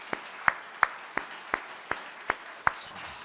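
A congregation at an early-morning church prayer meeting claps together in a steady rhythm, about three firm claps per second, each one crisp and distinct against a quiet hall.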